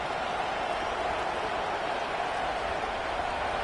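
Steady roar of a stadium crowd at a football game, loud and continuous throughout with no distinct breaks, a dense wash of cheering and noise making before a play.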